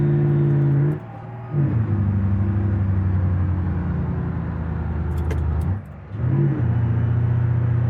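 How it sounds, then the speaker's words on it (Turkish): In the BeamNG driving game, a Mercedes-Benz Actros truck hauling a 20-ton load climbs village roads, its diesel engine roaring loudly and steadily, dipping twice as gears shift before revving back up. "Araba gürlüyor ya."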